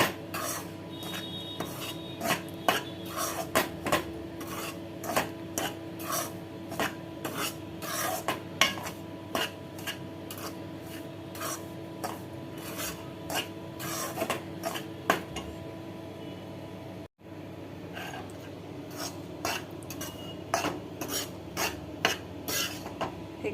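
Wheat and moong dal flour roasting in a pan while being stirred, giving a steady run of scraping, rasping strokes of the spoon against the pan that continue throughout with a brief pause near the end.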